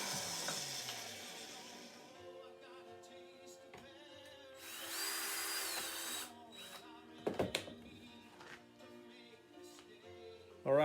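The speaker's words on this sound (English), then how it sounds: "so I could flip the antlers over and drill from the bottom side" Power drill boring into a deer antler from the underside while making a candle holder, a whining motor that revs in bursts with pauses, close and fairly loud, with a few clunks of handling between runs.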